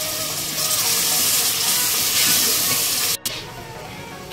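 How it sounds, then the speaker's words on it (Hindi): Water hits a hot, sizzling tomato masala in a pan for dhaba-style chana dal tadka, giving a loud steady hiss of steam and bubbling close up that cuts off abruptly near the end, then resumes more quietly. "इस मसाले ना मैं थोड़ा जहा पानी ऐड करूँगी"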